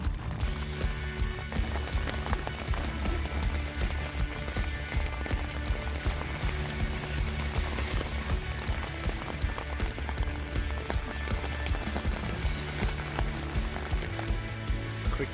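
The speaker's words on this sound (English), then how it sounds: "Rained all night, raining right now." Steady rain falls on a backpacking camp in Denali, a dense continuous patter that stays even throughout with no voices.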